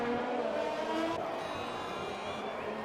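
Formula racing cars in a video game jostle for position, a Renault and a Williams diving down the inside at the Mexico circuit, their engines whining loud and steady with a brief shift in tone midway.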